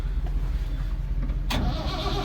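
An old Case 1690 tractor diesel engine cranks and rumbles through a cold start, a low, pulsing churn that suddenly swells into a louder roar as throttle is applied near the end.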